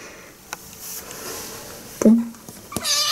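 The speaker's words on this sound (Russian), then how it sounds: "Она мякает, когда надо, чтобы ее погладили" A domestic cat gives one short, close meow partway through, against quiet room background with faint soft noises.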